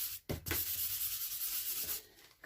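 An embossing buddy rubbed firmly over card stock gives a steady, close dry scuffing that runs for about two seconds after two short strokes at the start.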